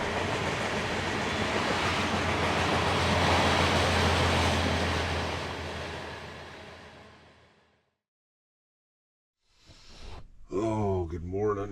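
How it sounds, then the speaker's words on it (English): A train rolls past a van campsite in cold spring weather, a loud sustained rumble with clattering wheels that fades into silence; a voice then speaks close by. "Trains have been going by."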